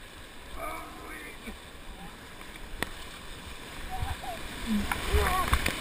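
Paddles pulling an inflatable kayak through water, with soft splashes and gurgles under a steady wash of moving water while paddlers call to each other.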